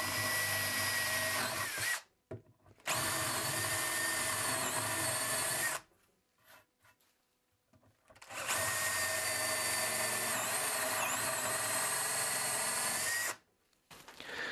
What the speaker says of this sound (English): I'm going to have to drill this out